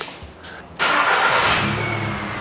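A car engine cranks briefly, catches and settles into a steady idle, close and loud, during a diagnostic check in a workshop.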